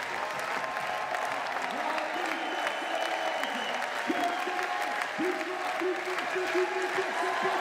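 Crowd at a women's bouldering final in Meiringen cheering and clapping, sustained applause mixed with whoops and shouts, loud and continuous, with a commentator's voice heard over it.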